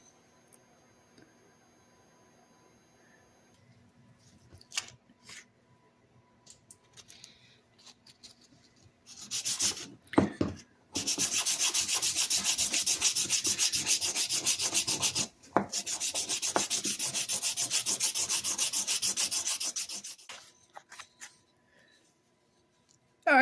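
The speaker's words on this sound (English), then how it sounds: "we're done giving a light sanding to the scales" Wooden handle scales on a pair of 80-year-old Wiss shears are sanded lightly by hand: a few scattered taps and scrapes at first, then two long, even stretches of steady, close abrasive rubbing separated by a short break.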